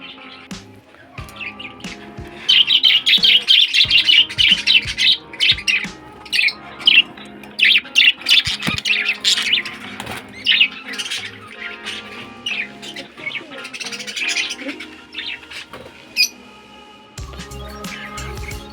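Caged pet birds squawking and chirping in sharp, rapid bursts, loud and close, with brief flutters of wings amid the calls and a quieter stretch near the end.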